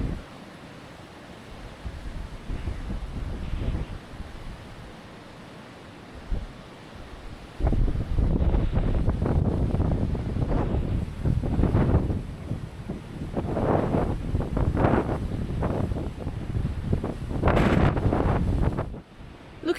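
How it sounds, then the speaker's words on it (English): Strong wind gusting at the edge of a very high cliff where a waterfall spills over, at Cascada La Invertida near Paso Pehuenche, Chile; a steady low roar turns into loud, buffeting gusts partway through, with no talking. "especially on a super windy day like today"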